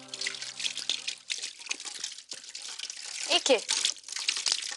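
Water runs from a tap in a home bathroom, a close splashing trickle with drips, while someone speaks briefly over it.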